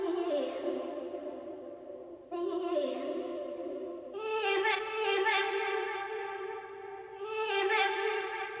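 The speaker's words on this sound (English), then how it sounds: "So then what I did was I chopped it up, rearranged it, and made my own version" A chopped and rearranged vocal sample plays as a continuous, sustained tonal line in short segments, with abrupt edits near 2.3 and 4.1 seconds, tuned for a chill dance beat.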